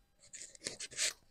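Electrical tape is stretched and pressed over a switch molding, giving a few faint, close rasping and rubbing strokes that rise to a brief scratchy peak near the end.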